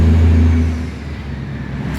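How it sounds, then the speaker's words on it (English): A big truck hauling machinery rolls past close by, its deep engine rumble loud at first and then fading as it moves away, with no talk over it. "That was a big piece of truck carrying machinery."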